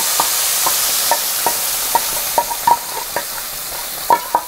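Ground chutney paste sautéed in hot oil with popped mustard seeds, curry leaves and dried red chilies for an onion-free chutney: a steady close sizzle broken by about a dozen sharp spatula scrapes against the pan at a brisk, regular rhythm.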